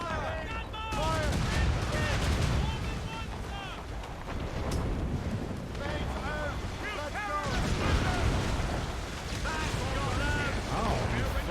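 Naval ship cannons fire in rapid bursts during a sea battle in Assassin's Creed Rogue, heavy booms rolling over steady wind and waves, with shouted crew orders and voices throughout.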